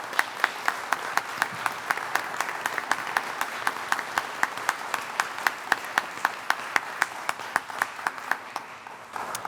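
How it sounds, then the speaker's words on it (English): Applause for the Board of Trustees at a La Joya ISD school board meeting, a long run of steady, evenly paced claps ringing out clearly in the meeting room for nearly ten seconds. "A big round of applause to our Board of Trustees for their generosity."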